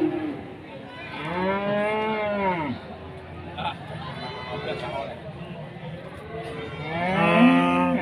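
Cattle at a livestock market in Keling, Jepara, including Simmental stock, give loud drawn-out moos, one near the start and another near the end, with softer animal calls and crowd murmur between.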